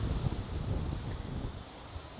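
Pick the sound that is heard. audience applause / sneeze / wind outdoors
wind outdoors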